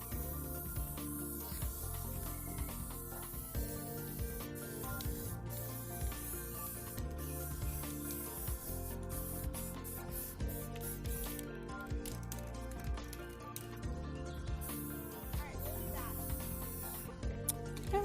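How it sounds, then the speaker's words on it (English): Repeated hissing bursts of an aerosol spray can painting a ladder, short sprays in irregular rhythm over a steady background hum, close and fairly loud. "now I am done spray painting the ladder"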